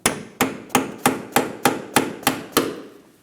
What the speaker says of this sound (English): I'll put it on the outside of the tip of the bolt and gently tap it all the way out.